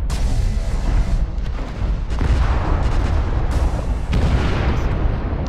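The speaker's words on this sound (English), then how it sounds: "That was an ammo explosion." Loud, rumbling explosions and booming blasts from an ammo explosion in MechWarrior Online roll continuously, with sharp bursts breaking through a thick low roar.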